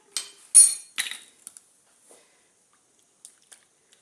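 A few quick scrapes and clinks of a spoon against a bowl mixing black soap with rose water, followed by sparse, faint taps and near silence.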